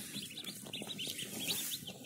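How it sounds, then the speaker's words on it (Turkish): Newly hatched chicks in a box chirp continuously, with many high, thin peeps overlapping in a faint, busy chorus. "Gelin beraberce yeni çıkan civcivlerimize bir göz atalım."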